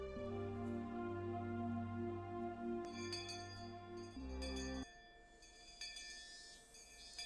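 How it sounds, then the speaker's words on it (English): A school's electric bell rings loudly in a sustained, harmonic-rich tone, then cuts off, leaving a faint ringing chime behind. "Finally, we heard the principal's bell ringing."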